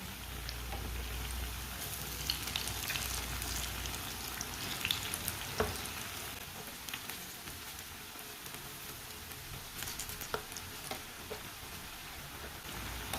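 Masoor dal pakoras fry in a pan of hot oil, giving a steady, close sizzle and crackle throughout with a few sharper pops and spatters, no voices.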